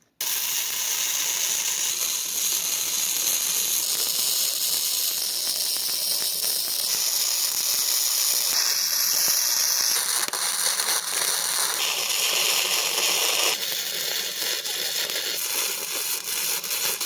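Tack welding on a homemade steel smoker BBQ built from reused parts, a continuous hissing, crackling arc that runs steadily throughout with shifting high-pitched tones and no talk.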